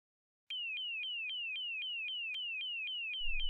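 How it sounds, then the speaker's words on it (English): A loud electronic car alarm on a busy city street repeats a rapid falling whoop over and over, steady and close, with a low rumble creeping in at the end. "She hears a car alarm."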